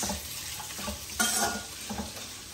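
Onions and chillies fry and get stirred in a pan for bagara rice, with a soft continuous sizzle under scraping spoon strokes and a brief louder stir midway.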